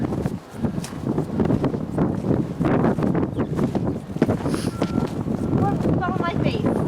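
Bitter cold wind, around 10 degrees, blows through snowy streets the day after a blizzard, roaring and buffeting hard against the microphone in constant gusts while people walking into it talk over the noise.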